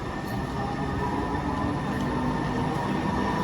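Sound Transit Lynnwood Link light rail train rumbles steadily from inside a moving car, a loud continuous roar of wheels and motors with a faint high whine and no voices.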